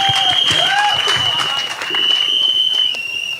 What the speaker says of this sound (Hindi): बंसल साहब के लिए एक बार जोरदार तालियां हो जाएं